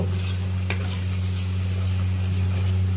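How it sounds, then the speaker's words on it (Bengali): Bean seeds being stirred and fried in cooked-down spices in a pan, a steady close sizzle running throughout with a low constant hum underneath and one brief scrape of the spoon. "এখন শিমের বিচি দিয়ে দেব, একটু নেড়ে দেব"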